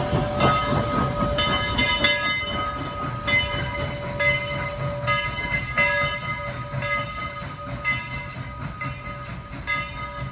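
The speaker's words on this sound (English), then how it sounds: "get some great videos of Southern 4501 working hard past the photo line." Southern 4501, a steam locomotive, works hard past a photo line on a heritage railroad, with a loud, continuous rumble and chuffing and a steady tonal whistle-like ring over the top, close and sustained.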